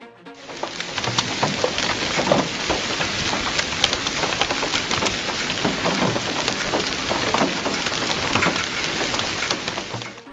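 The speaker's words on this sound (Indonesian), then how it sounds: "Badai hujan es Oman." Hail pours down during a storm in Oman, a dense, continuous hiss of pelting ice with scattered sharper impacts, loud and close, with no voices.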